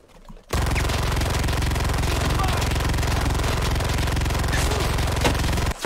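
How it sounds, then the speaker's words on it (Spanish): Rapid, continuous automatic gunfire from the video game Cuisine Royale blasts without pause for several seconds, loud and dense, stopping abruptly at the end. "Tiene muy buen sonido de tiros el juego."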